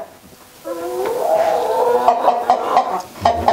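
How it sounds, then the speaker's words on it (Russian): A rooster lets out a long, loud crow close by, its drawn-out call followed by some clucking and scratchy background noises. "Петушок подает голос."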